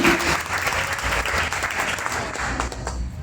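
A church congregation at a French-speaking Sunday service applauding, with loud sustained clapping from a large group filling the room for the whole stretch.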